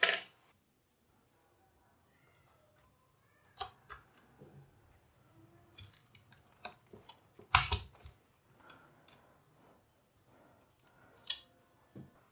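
DDR4 RAM sticks are pushed into a motherboard slot during a budget gaming PC build, giving a scatter of sharp plastic clicks and taps, with one louder snap near the middle, against near silence.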